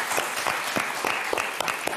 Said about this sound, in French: ce qu'on va faire, c'est vous applaudir très fort